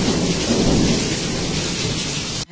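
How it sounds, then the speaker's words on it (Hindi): Heavy monsoon rain pours down steadily, with a deep rolling rumble of thunder, dense and loud throughout the short stretch. "बिजली भी बेसी मारुचे घड़घड़ी भी बेसी"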